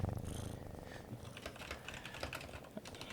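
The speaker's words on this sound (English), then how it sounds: "He is purring like a psychopath." A cat purring steadily with a low continuous rumble, fairly quiet and close, mixed with clicky tapping like keyboard typing throughout.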